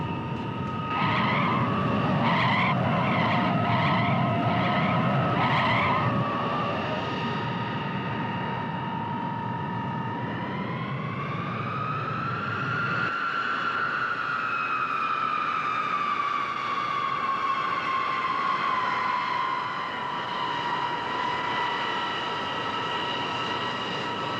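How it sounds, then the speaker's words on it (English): An airliner lands and brakes hard on the runway: a loud roar with pulsing noise at first, then high engine whine tones that sweep up and slowly slide down as it slows, with no talking. "He's stopping on the runway."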